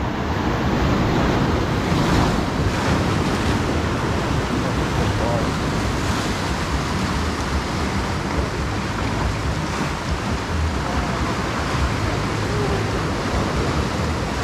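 Steady roar of ocean surf and wind buffeting the microphone at the Port Aransas jetties on the Texas coast, continuous and fairly loud throughout, with no distinct voices.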